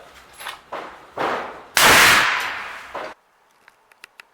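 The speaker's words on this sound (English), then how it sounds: "This hunting gun can only hold 3 rounds." Sharp shots ring out from a hunting rifle loaded with 33 grains of 1680 powder and CCI Magnum primers, several loud outdoor cracks followed by a long booming report that decays, then faint small clicks.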